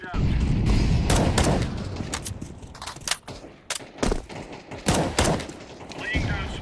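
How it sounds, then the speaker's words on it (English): Video game combat with rapid gunfire bursts and heavy explosive thuds from grenades, loud and dense throughout, broken by sharp individual shots toward the end. "Grenade. Throwing fire. Grenade out."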